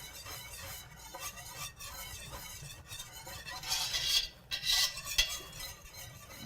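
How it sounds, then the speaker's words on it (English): A spoon stirring a butter and green onion roux in a pan, soft continuous scraping and faint sizzle at low level, with a few brighter clinks of utensil against metal near the end, no talk. "we just want to stir that up in there and get it mixed in really"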